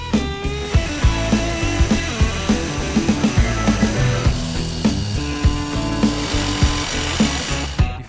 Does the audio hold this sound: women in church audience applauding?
no